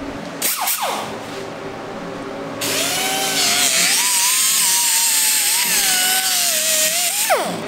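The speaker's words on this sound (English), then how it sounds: "So I ground the end of the rivet off of this chain" An angle grinder grinds off the end of a rivet on a motorcycle drive chain while a chopper is built, making a loud, steady high whine with a shifting pitch that runs for most of the clip after a brief start.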